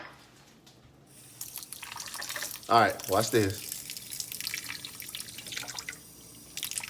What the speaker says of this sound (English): we're going to add some water to this joint.